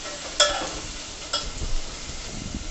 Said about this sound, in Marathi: हाय फ्लेमवर कांदा शिजवून घ्या.